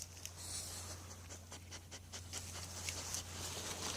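A puppy pants quietly in quick, rhythmic breaths close by, with faint background hum and no talking.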